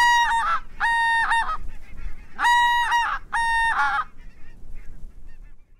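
A Greylag Hammer goose call blown to imitate a greylag goose hail call: four loud, close, honking bursts in two pairs, the last ones breaking into rougher notes before fading to quiet.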